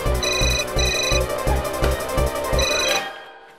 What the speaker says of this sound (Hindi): आज का पहला फोन।